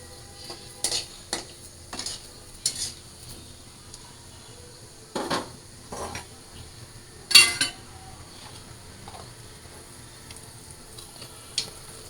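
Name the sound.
tempering black cumin and dry chillies in oil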